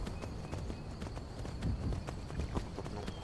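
Horse hooves clip-clop in Skyrim, a steady run of regular thuds over continuous game ambience, with no voice over them.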